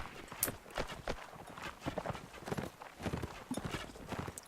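Horse hooves clip-clop in the video game Mount and Blade Warband, an irregular run of clopping steps at moderate distance, some beats quicker than others, with no one speaking.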